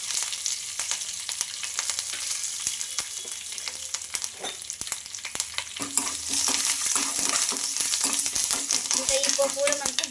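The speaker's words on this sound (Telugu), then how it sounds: "ఇవన్నీ బాగా ఫ్రై చేసుకోవాలి అలాగే కరివేపాకు అలాగే కొంచెం ఇంగువ" Tempering spices, curry leaves and asafoetida fry in hot oil with a loud, crackling sizzle and frequent stirring clicks, growing denser toward the end.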